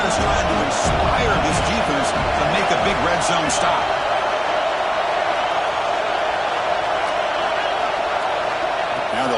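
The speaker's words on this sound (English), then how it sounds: "And here comes the noise. This crowd" Loud, sustained roar of a big stadium crowd, a constant wash of cheering noise with a few sharper bursts early on.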